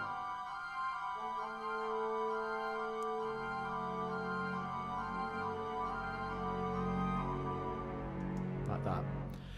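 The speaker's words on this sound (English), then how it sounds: "basically the celeste plays different notes to the flutes" Orchestral passage from a Star Wars cue, with a celeste chiming notes that differ from the flutes above sustained low strings, played continuously without speech.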